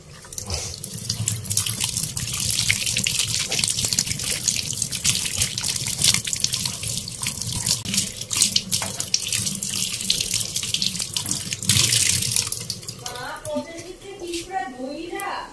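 Tap water runs steadily into a sink while fresh coriander leaves from a potted plant are rinsed, a continuous close splashing stream with small clatters, ending in softer trickling and drips.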